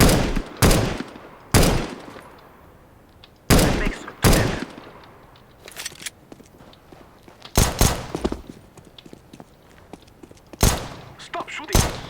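Auto sniper rifle fire on the Dust II map in CS:GO: loud, sharp gunshots spaced irregularly, some in quick pairs, with quieter game noise and footsteps between them.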